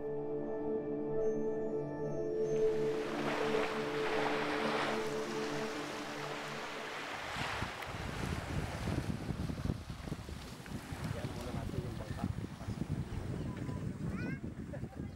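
A small wooden rowing boat used for gathering sikad shellfish sits on open water, wind buffeting close by with lapping water and splashes, while people talk faintly underneath.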